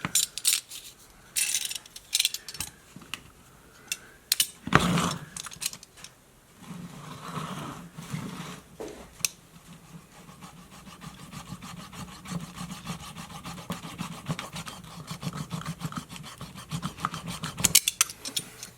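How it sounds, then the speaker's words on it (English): A utility knife cuts through a MacBook charger cable near its connector, heard as close irregular scraping and rasping strokes with a few sharp knocks, then a steadier run of sawing rubs toward the end. "cut this with a utility knife as close as you can to this cable connector"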